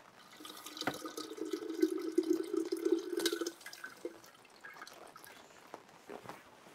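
Water sloshing as seeds are swirled around in a jar during seed cleaning on a market garden, a brief close watery swishing burst that settles into quieter trickles.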